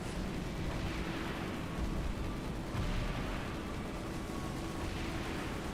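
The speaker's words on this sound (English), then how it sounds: "did you change the Mega Mantis Gatling sound?" A Mega Mantis Gatling gun in a Halo 3 mod fires a dense, continuous roaring burst, loud and unbroken throughout, with no voices over it.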